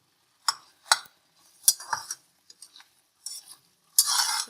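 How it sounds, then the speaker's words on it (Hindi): Almond halwa is stirred and roasted in a pan, giving a few short scraping clinks of a spoon against metal spaced irregularly, then a brief louder burst of scraping near the end, with no talking. "देखें अच्छी तरह भून रहा है।"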